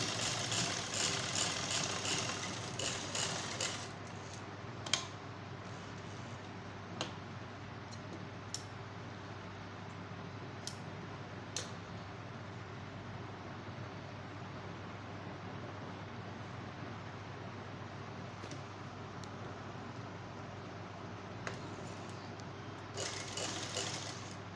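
A sewing machine stitching an A-line shirt runs steadily and quietly throughout, a low continuous motor drone with faint ticking and a few small clicks.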